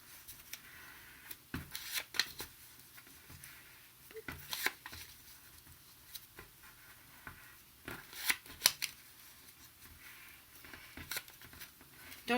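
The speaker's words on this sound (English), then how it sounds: "I'm just going to accordion or fan fold this" Paper being accordion folded for a small boho wood flower, with quiet irregular crinkles and soft creasing snaps that come and go up close.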